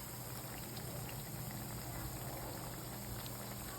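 Vegetable pakoras frying in oil over low heat give a steady, even sizzle and bubbling, continuous and close with no talk over it.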